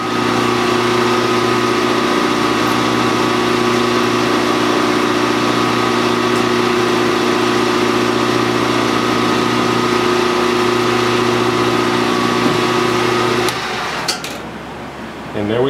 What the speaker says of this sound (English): I'm putting the drill all the way in every time.